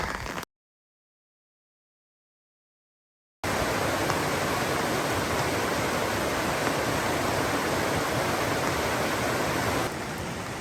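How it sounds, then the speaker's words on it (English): Steady rain pours down on a mountain trail in Colorado as a broad, even hiss, loud and close, after a brief stretch of complete silence near the start. "it's still raining"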